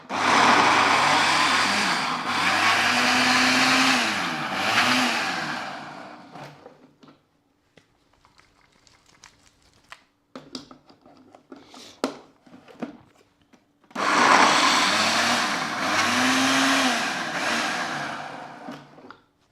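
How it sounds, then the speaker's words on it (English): A new blender pulses fruit for a homemade fruitarian cereal in two loud bursts of whirring motor noise, separated by a quieter gap with light clatter and movement. "Secure the lid. Ah, yeah. Right, so pulsing it."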